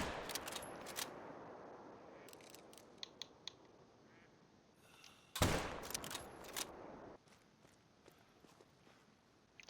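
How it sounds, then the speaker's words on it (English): A 7mm rifle fires in the hunting game theHunter: Call of the Wild. A single sharp, loud shot cracks out midway and rings off, with quieter outdoor ambience and small clicks before and after. "I'll shoot him with the 7mm just in case."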